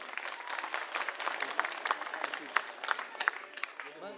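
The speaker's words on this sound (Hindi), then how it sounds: "एक बार जोरदार तालियां अपने लिए बजा लीजिए आप" A crowd claps loudly and continuously at an Aam Aadmi Party rally in a Delhi village, a dense burst of applause with sharper claps rising above it before it fades out.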